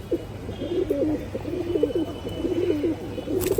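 Khaki pigeons with feathered feet at a pigeon show, giving repeated soft rolling coos in a steady rhythm against a low background hum, fairly close.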